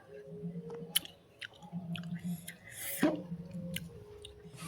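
Someone chews spiced mashed guava, a run of close, wet bites and crunches with squishy mouth sounds, heard over soft background noise.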